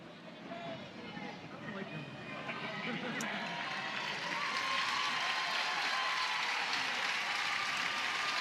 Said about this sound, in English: Nice hand from the crowd for Kinsey.